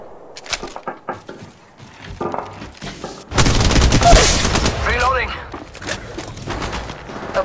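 Apex Legends Mobile gunfire rattles through a firefight, scattered shots early on building into a loud, sustained burst of rapid fire in the second half, with voiced callouts in the game over parts of it.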